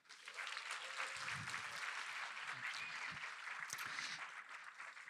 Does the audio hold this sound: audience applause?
yes